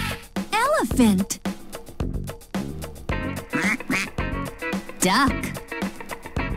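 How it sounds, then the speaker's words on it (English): Duck quacks in a children's animal song, a few short nasal calls mixed in with a sung melody and a voice naming the animals. "Duck."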